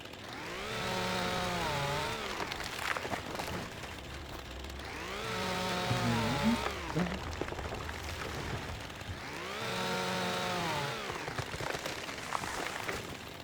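Premium chainsaw felling trees in Farming Simulator, revving up in three long harmonic bursts of roughly two to three seconds each with quieter idling gaps between, fairly faint and alone without talk.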